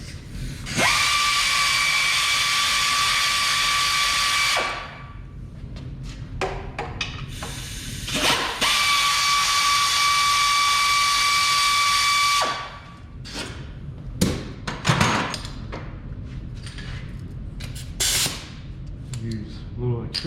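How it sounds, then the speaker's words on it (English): An air ratchet fitted with a swivel and extension spins out oil pan bolts under a Mustang Bullitt, with two long loud whirring bursts separated by clicks and clanks, and someone talking in between. "I usually use my air ratchet and a swivel so I can get it away from the"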